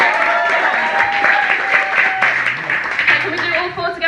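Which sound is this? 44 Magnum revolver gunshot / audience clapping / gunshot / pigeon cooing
audience clapping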